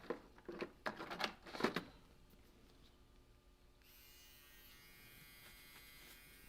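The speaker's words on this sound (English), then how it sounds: "I'm just going to grind off the top layer here" A rotary grinder grinds the top layer off a laptop motherboard in several short, loud buzzing bursts over the first two seconds, then falls to a faint steady hum.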